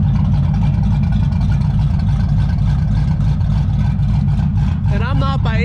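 Burnout truck with added pipes and mufflers idling loud and close, a lumpy choppy cam rhythm throbbing steadily throughout, with a brief rising rev near the end.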